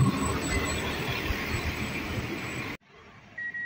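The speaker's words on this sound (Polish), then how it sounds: "Jedzie nasz pociąg." Close, steady rumble and clatter of a train running on rails, cutting off abruptly to near quiet, with a faint tone near the end.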